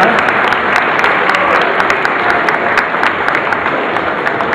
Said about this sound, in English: I would like you all to give a round of applause to the contestants for their presentation today.